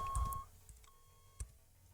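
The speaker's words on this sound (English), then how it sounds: "So it beeps when you put it in reverse." Reverse warning beeper on a quad bike in the video game Cataclysm DDA: a short electronic tone, then a longer steady beep after a pause, thin and fairly quiet over a low background.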